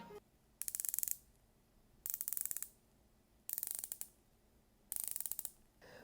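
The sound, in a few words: watch bezel rotating clicks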